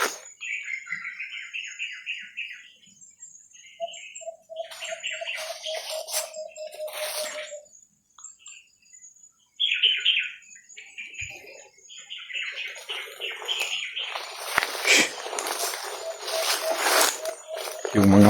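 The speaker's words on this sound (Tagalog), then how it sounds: "Yung mga huni lang po ng ibon yung naririnig natin po dito." Forest birds chirp and call in short, repeated bursts, some high and trilling, one lower piping run of notes, with a faint voice underneath at times and a busier chorus toward the end.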